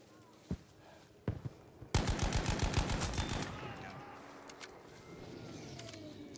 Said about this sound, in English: These guns just do not feel like fun to shoot.